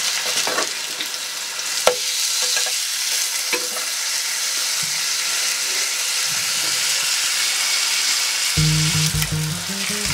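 A swordfish steak fries in a pan, giving a steady loud sizzle with occasional pops and utensil clicks, followed by a low rumble near the end.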